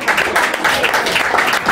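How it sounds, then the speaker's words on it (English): Applause from an audience at a Christmas party for wounded Royal Marines, dense steady clapping throughout, loud and close with a few voices mixed in. "So I'd like to applaud all of Crawley."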